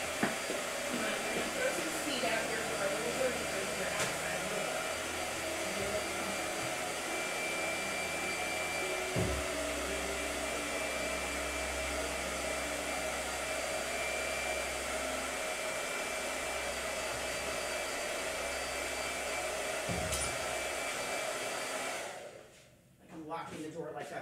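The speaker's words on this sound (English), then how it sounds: "wait, I need a blow dryer" A hair dryer blows steadily and loudly indoors for about twenty-two seconds, a continuous broadband whoosh with a low hum, then cuts off near the end.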